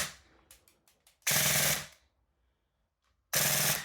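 An airsoft gun fitted with a T238 brushless motor fires in two fast full-auto bursts, each a loud dense rattle of rapid shots lasting about half a second, preceded by a few lighter clicks, with quiet gaps between bursts.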